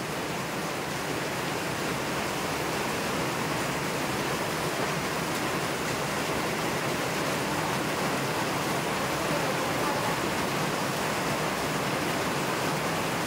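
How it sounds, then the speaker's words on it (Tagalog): Heavy rain pours down steadily outside a Philippine house during a flood, a dense, unbroken roar that holds at the same loud level throughout with no voices. "Grabe, ang ulan. Parang binubuhos."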